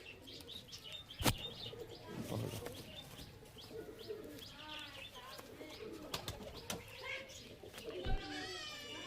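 Giribaj high-flying pigeons, including a male bird, coo and chirp softly nearby in scattered calls, with a couple of sharp knocks and faint background murmur.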